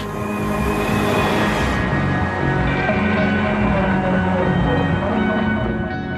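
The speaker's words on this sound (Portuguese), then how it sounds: "Esse trem literalmente flutua no ar." Shanghai maglev magnetic levitation train running, a loud, steady broadband rush and hum that holds continuously throughout without breaks, with no voices heard.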